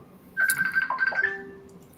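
A mobile phone ringtone chimes close by, a bright electronic melody of a few quick notes lasting about a second and a half before cutting off, with no talking over it.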